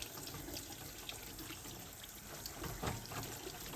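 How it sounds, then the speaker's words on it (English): Cabbage for kimchi being rinsed under a running kitchen tap, a steady close stream of water splashing into a sink with small surges, no talk. "We are going to rinse them for 2-3 times."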